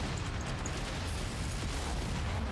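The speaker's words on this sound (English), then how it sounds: "We just had an ammo explosion." A continuous roaring rumble from an ammunition explosion aboard a mech in the MechWarrior 5: Mercenaries game, dense and steady with faint crackling throughout.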